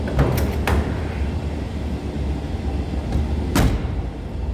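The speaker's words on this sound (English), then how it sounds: "Door closes nicely." A solid door on a 1955 Ford Thunderbird convertible thumps shut, followed by a second closing thud a few seconds later over steady low rumble.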